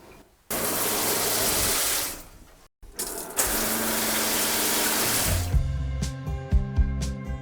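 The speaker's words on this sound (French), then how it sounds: "Quand on ouvre les robinets, voilà, on entend la pompe 12 volts qui se met en action" A 12-volt water pump in a tiny house starts up as the taps open, a loud steady gushing of water flowing, then a humming motor drone with clicks as the plumbing pressurizes; no speech.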